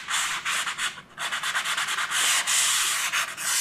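A power sander fitted with 150-grit paper works over a blistered wall in steady, rhythmic rasping strokes, close and loud, with a short pause about a third of the way through.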